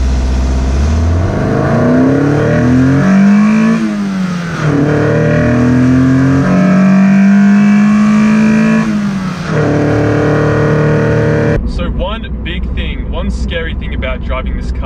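A Toyota MR2 with the sunroof removed driving hill corners on Mt Dandenong, its engine revving up and down through gears, loud and close throughout before dropping off near the end.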